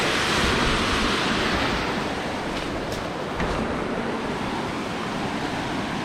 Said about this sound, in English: I would love to just like float right in the center and watch this waterfall